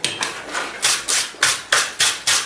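Forge-heated steel pieces for bolt jaw tongs are scrubbed with a wire brush in quick, even strokes, each one a crisp, loud scratch repeating about every quarter second close by.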